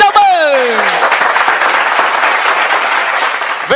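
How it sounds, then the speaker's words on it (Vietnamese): Wedding guests at a reception applauding warmly, a full, sustained round of clapping from a crowd, opening beneath a fading voice and then carrying on loud and even to the end. "chúng ta dành những tràng pháo tay nồng nhiệt để chào mừng"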